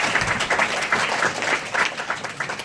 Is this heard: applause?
yes